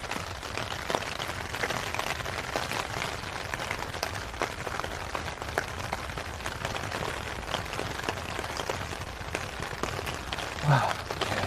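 Steady rain falls on a walking route through Saitama, Japan, a dense even hiss that continues throughout at moderate loudness, with a faint voice briefly near the end.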